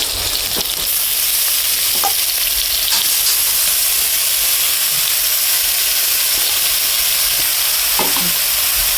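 Papaya pieces and five-spice (panch phoron) fry in hot oil with a loud, continuous close sizzle. Occasional clicks of stirring cut through, and no one speaks.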